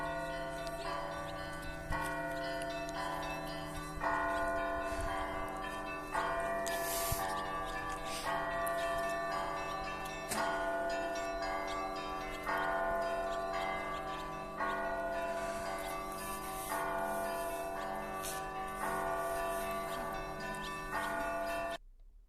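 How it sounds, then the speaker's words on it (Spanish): Traditional Orthodox church bells ring in Sviyazhsk, several tuned bells struck in a repeating rhythmic pattern with sustained ringing overtones, heard from a moderate distance without talk. "Escuchemos un rato las campanas tradicionales ortodoxas."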